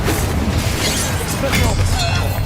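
Confringo blasting spell in Hogwarts Legacy, a loud burst of explosive booms and crashes over a short stretch, mixed with in-game sound and a voice.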